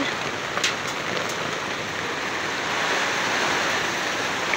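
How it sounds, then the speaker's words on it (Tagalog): Heavy rain pours down in a dense, constant roar, close and loud throughout, with no voices. "Lakas ng ulan guys."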